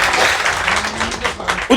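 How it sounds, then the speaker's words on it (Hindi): A live audience at a comedy poetry show in Varanasi claps loudly in a dense, sustained burst of applause lasting the whole moment, with a few voices mixed in. "चलिए एक बार सब जोरदार तालियां बजाइए"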